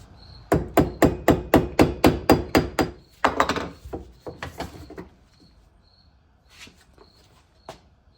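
A hammer raps a Volvo 740/940 transmission part held in a vise, about a dozen sharp metallic taps in quick steady rhythm, then a looser cluster of strikes and a few faint knocks trailing off.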